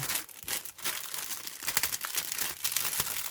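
A resealable plastic bag from a 1/35 Ryefield Models Panzer III Ausf. J model kit being opened, giving close, continuous crinkling and rustling for a few seconds with brief tearing-like bursts.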